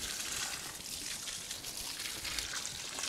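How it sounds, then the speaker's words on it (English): Water pours steadily from a watering can filled from a water butt onto the tops of tree ferns, a continuous close splashing trickle with no talking. "tree ferns like a water from the top. Give it a good pour in."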